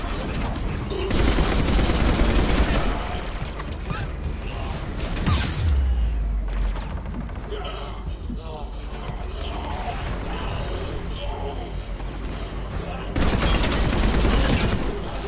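Gunfire in the video game Mass Effect 3 crackles in repeated volleys with mechanical clatter and occasional heavier impacts, loud and continuous, while someone talks over it.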